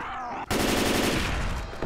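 Gunfire in Left 4 Dead 2, a dense, loud burst of rapid shots erupting abruptly after a brief quiet moment and continuing steadily to the end, with no talking over it.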